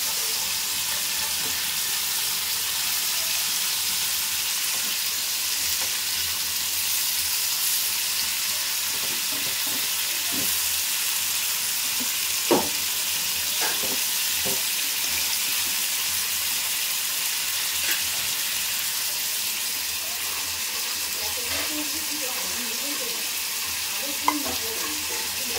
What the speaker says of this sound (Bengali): এই চিংড়ি মাছটা ভাজছি।